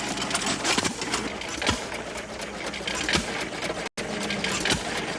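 An old farm engine runs with turning wheels, gears and cranks, giving a dense, fast mechanical clatter with rhythmic ticking, loud and close throughout, broken by one momentary dropout.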